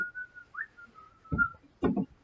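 A person whistles a sustained tune during carpentry work replacing door casing, a steady tone with a quick upward slide, followed near the end by two short bursts of knocking or handling noise.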